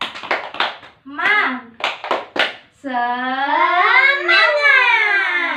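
A third-grade class does a rhythmic clapping chant: quick bursts of sharp group claps in a short pattern, then young voices chanting together in a long, sung, rising call, close and lively.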